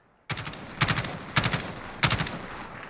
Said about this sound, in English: Now let's try firing how this is intended, really with a burst.